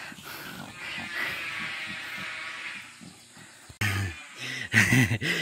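A farm pig grunts and squeals up close, with snorting oinks over a continuous background hiss, growing louder and harsher toward the end.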